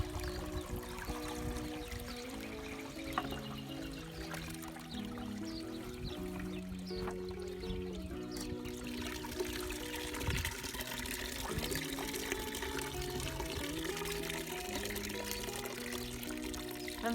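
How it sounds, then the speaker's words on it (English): Homemade liquid fertiliser pours through a filter in a faint, steady trickle that runs without a break and without any voices. "So it's going to filter out all the bits and just leave me with the fertiliser."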